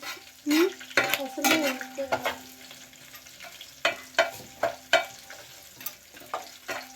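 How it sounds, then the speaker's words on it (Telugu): Chicken being stirred for biryani in a pan, frying with a soft sizzle under repeated scraping and clinking of a spoon against metal in irregular bursts, close and clear, with no talking. "చికెన్ ఒకసారి కలుపునా."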